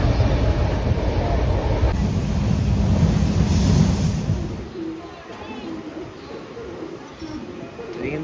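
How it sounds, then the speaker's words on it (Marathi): A Mumbai to Konkan train starting to move gives a heavy, close rumble that later eases into a lighter rolling clatter, with indistinct voices and cabin noise around it. "आता ट्रेन स्टार्ट झालेली आहे."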